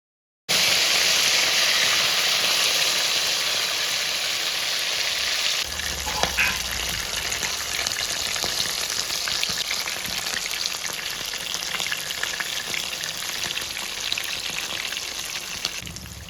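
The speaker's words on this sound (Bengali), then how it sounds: "মাছগুলোকে কড়া করে ভেজে নেব" Pieces of rohu fish frying crisp in hot oil, a steady dense sizzle with crackling that runs the whole time, loud and close, with no voices.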